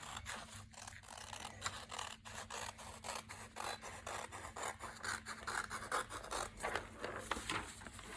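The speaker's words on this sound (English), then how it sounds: "I'm going to slash the pattern at that point. So I'm going to cut through that line that I've just drawn." Scissors slicing through a paper sewing pattern along a drawn line, a quiet run of rasping, scraping cuts in a close, calm room with no talk.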